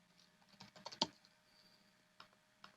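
A few soft keystrokes on a computer keyboard entering a Linux command, with a brief flurry of clicks and one sharper tap, then two isolated presses, faint and close.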